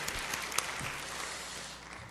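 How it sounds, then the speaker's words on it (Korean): Faint, distant applause from a church congregation at Garden Church in Toronto, giving glory to God after a birthday song, a soft even patter of many hands that carries on for about two seconds. "박수로 우리 하나님께 영광 돌립니다"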